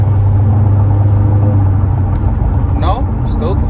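Interior drone from a 2018-2022 Honda Accord 1.5 fitted with a Borla S-Type exhaust; a steady low engine hum and road rumble hold throughout, with a short voice breaking in near the end.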